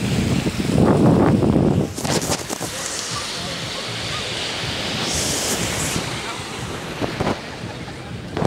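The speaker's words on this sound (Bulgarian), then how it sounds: "От тея вълни." Sea waves wash and surge onto the shore over heavy wind buffeting the microphone, with a brief voice early on and rushing water throughout.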